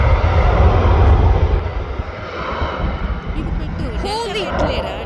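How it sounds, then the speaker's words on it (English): An Alaska Airlines jet takes off at Atlanta's ATL airport with a loud, rushing engine roar that gradually eases, while voices talk over it nearby. "Wait, the Alaska's taking off!"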